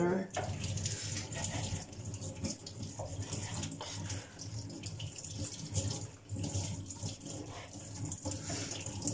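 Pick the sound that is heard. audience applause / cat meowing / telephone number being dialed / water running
water running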